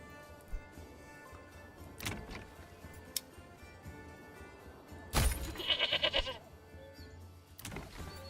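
Goats bleating in the medieval city-building game Manor Lords, a short burst of bleats around the middle over a steady ambient bed with occasional ticks and clicks.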